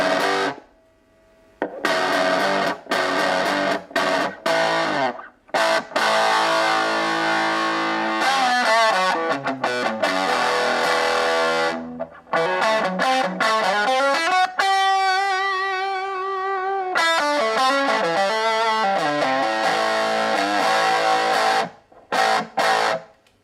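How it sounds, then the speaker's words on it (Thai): Heavily distorted electric guitar played through a small 5-watt amp, loud sustained chords and bends with short pauses between phrases, no talking. "เดี๋ยวทีนี้เราฟังเสียงแตกมั้งนะฮะเสียงแตก"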